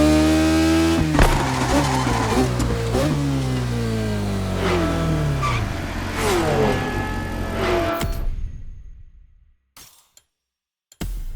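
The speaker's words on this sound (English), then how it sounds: "The car you're about to drive in this opening event is none other than the first Ferrari in the supercar bloodline, the Ferrari GTO." A Ferrari GTO engine in The Crew Motorfest revs hard through rising and falling gear pulls, loud and close, before cutting to near silence with a brief final burst of engine noise.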